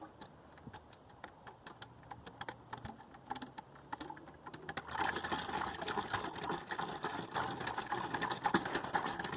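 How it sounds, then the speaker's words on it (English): A windmill pump mechanism pumping water, with sparse ticking clicks at first, then a busy, continuous ratcheting clatter of gears and pawls that grows louder and denser, close by and with no talking. "We just assembled the windmill pump, and now we are going to pump the water."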